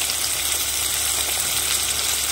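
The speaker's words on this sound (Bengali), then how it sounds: "এখন মশলাটা কষিয়ে নেব ভালোভাবে" Spice paste of ground coriander, cumin, turmeric and salt fries in hot oil for a mourola fish curry, giving a loud, continuous sizzle without pause.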